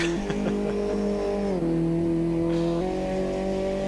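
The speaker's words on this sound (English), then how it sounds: "The outside external sounds of the car sound pretty cool." A Ginetta G40 race car in the Automobilista 2 racing game is heard from outside, its engine holding a steady high drone with two clear gear-change drops, loud and continuous.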